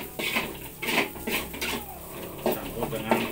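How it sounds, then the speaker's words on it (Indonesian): Rice being stirred and mixed with sambal on a plate, heard as a close series of irregular scraping clinks of a spoon against the dish. "Saya harus aduk dulu dengan nasi."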